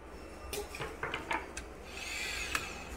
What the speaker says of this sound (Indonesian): Disekrup juga.